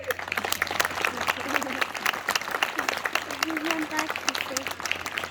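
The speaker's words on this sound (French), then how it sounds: "je vous demande un tonnerre d'applaudissements pour Pierre Ferré." A crowd claps steadily in sustained applause throughout, loud and even, with faint voices mixed in.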